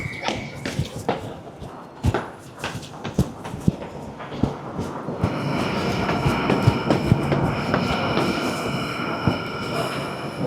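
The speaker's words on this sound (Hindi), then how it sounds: "ये हमारी ट्रेन थी जो निकल गई है।" A train pulls out of a Sydney station, first clattering with sharp clunks and wheel knocks, then building into a louder sustained rolling roar with squealing wheels as it departs, fairly close.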